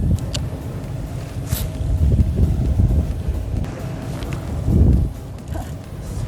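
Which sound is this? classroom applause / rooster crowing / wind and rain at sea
wind and rain at sea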